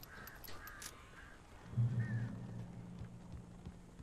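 Crows cawing in the video game Alan Wake, several short harsh caws early on, then a low rumbling game sound swelling beneath.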